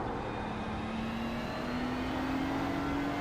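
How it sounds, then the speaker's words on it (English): Race cars in the iRacing video game during the 24 Hours of Daytona, with GT2 and GTP cars, approach as a steady engine roar whose pitch climbs gradually, loud and continuous with no talk. "Faster traffic approaching."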